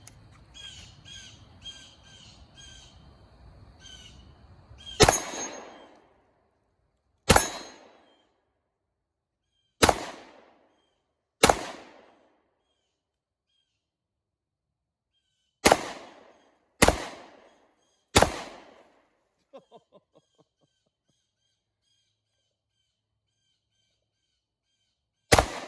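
Ruger SR1911 10mm pistol firing 180 grain hand loads at a range, eight sharp loud shots spaced a second or more apart, each followed by a quick decay, after a brief patch of bird calls.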